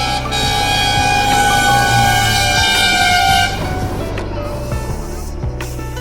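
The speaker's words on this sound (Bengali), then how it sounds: "SBSTC, কি জোরে যাচ্ছে দেখো।" A state bus passes fast on a road near a garage, a loud rushing roar with a sustained horn blast for about three seconds before the noise drops away as it recedes, other traffic faintly behind.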